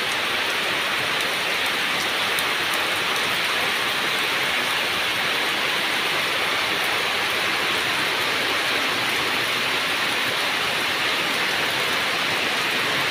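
Heavy rain pours steadily over a remote village, a dense, loud, unbroken hiss of drops on leaves and surfaces that continues without pause and with no voices.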